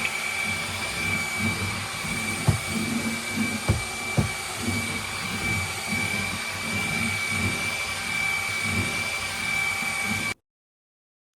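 A UWANT wet and dry floor cleaner runs loud and steady on turbo mode with a high whine, a few knocks and bumps along the way, then shuts off abruptly.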